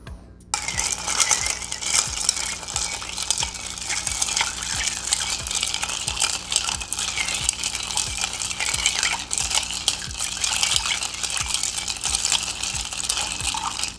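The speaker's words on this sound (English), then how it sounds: "We're gonna give that a stir." Spoon stirring a cocktail with lime juice, a fast steady clinking rhythm of ice against glass running continuously, close and clear with no talk.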